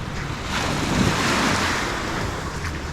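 Surf washing onto Camilo beach at Lagos in the Algarve: a steady broadband wash that swells slightly in the middle, with wind buffeting the microphone and no voices.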